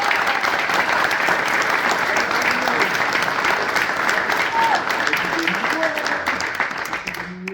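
Audience applauding after an amateur theatre performance of a comedy play, a dense, sustained wash of clapping from a full room that slowly tapers off toward the end.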